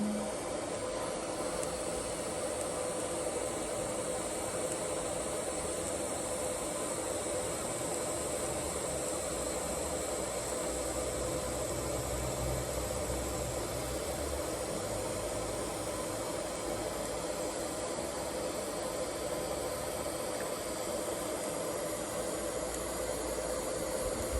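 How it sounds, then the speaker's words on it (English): A MIG welder works on a rear leaf spring mount of a 1969 Camaro, making a continuous, even frying hiss that runs unbroken and steady at close range, with no voices. "I might just MIG weld it because the body's dirty on the inside"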